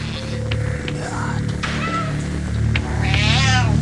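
Cats meow repeatedly inside a hoarder's house, close, wavering calls rising over a constant electrical hum and room noise.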